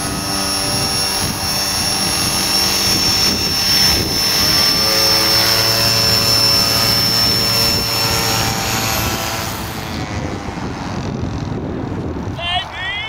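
A model aircraft flying in to land at a club flying event, its high engine whine droning steadily and shifting in pitch as it passes close, with wind buffeting on the microphone and people talking over it.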